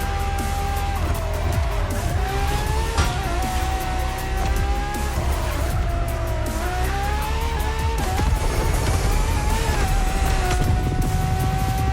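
LaFerrari supercar racing in The Crew Motorfest, its engine roaring loud and continuous with rising and falling revs, shifting pitch and bursts of tire squeal throughout.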